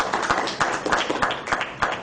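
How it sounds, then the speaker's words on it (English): A room at a high school district school board meeting breaks into a dense round of applause, many hands clapping at once in a steady, fairly loud wash with sharper claps standing out, no talk over it. "I think that deserves a round of applause."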